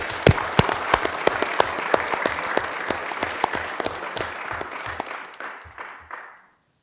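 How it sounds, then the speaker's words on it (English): Graduates receive a round of applause at a city council meeting: many hands clapping in a steady, moderately loud patter that thins out and fades to silence near the end. "Let's give our graduates a round of applause."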